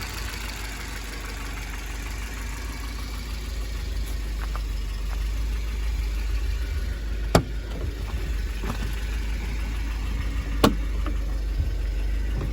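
A 1991 Volvo 740 Turbo engine runs at a steady idle, a constant low rumble with a couple of sharp clicks partway through; no one speaks.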